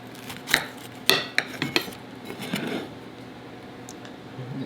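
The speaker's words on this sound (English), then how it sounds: "Should we get a knife and cut into it?" Cutlery clinks and scrapes against a plate as a knife cuts into cooked food beside bacon, a few sharp irregular clatters close by with no talk.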